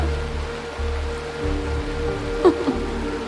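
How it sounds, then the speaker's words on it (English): Rain falling in the video game Honkai: Star Rail, a soft steady hiss with a low rumbling bed and a couple of brief brighter accents near the end, no speech. "This is the sound of rain."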